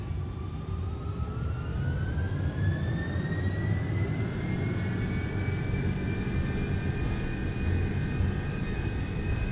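MD-11F jet engines in X-Plane 12 spooling up to takeoff thrust, a loud, continuous roar with a rising whine that climbs steadily in pitch throughout.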